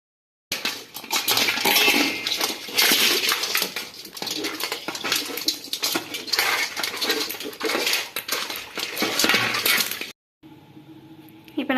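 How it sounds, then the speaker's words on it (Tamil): Raw crab pieces are snapped apart by hand for a nandu curry, a dense run of crisp cracks, clicks and shell crunches up close, ending in a short quieter stretch. "இந்த மாதிரி நம்ம ஒன்று ஒன்றா முறித்து எடுத்துக்கலாம்"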